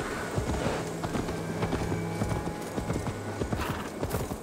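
A horse in Assassin's Creed Valhalla trotting through a town at limited speed, steady close clip-clop of hooves with an occasional neigh over faint game ambience.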